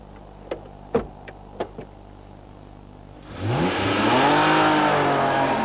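A few faint ticks give way to a 1990 Honda NSX engine with VTEC variable valve timing revving hard on a racetrack, its loud rising, wavering howl close by and sustained to the end.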